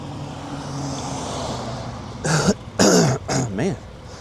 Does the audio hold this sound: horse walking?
no